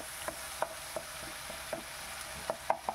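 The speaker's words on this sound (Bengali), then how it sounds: "আবার আমি ভালো করে একটু নাড়িয়ে চাড়িয়ে নিচ্ছি।" Ginger garlic paste frying in a pan for chicken curry, with a soft continuous sizzle and a series of sharp spoon scrapes and taps against the pan as it is stirred, no voices.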